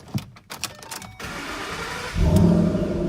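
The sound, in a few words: 2012 Ford Mustang Shelby GT500 engine starting and revving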